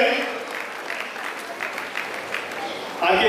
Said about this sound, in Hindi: एक बार जोरदार तालियों में हमारे विभूतियों का उत्साहवर्धन करें